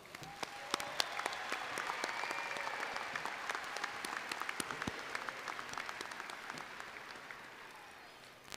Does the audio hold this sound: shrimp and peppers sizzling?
no